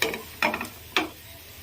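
Bhindi masala with chili powder, coconut powder and kasuri methi is stirred in a pan, giving three short scraping strokes over a quiet sizzle, close and fairly loud.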